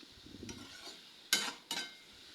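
Ridge gourd sautéing in a pan gives a faint low stir and sizzle, then two sharp clinks of a metal lid or utensil land close by.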